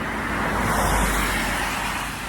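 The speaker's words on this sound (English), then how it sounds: "there's so many cars and it's very loud today." Loud road traffic with cars passing close by, a continuous roadway rumble that swells and eases over a couple of seconds, heard alone without voices.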